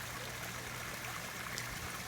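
Steady rushing flow from a koi pond waterfall and aerator, a constant close wash of water with no breaks.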